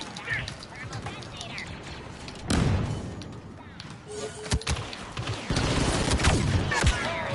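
Gunfire bursts from the Star Wars Battlefront 2 video game crackle through a busy battle mix, with a heavy thump near the middle and dense shooting toward the end, under a player's talk.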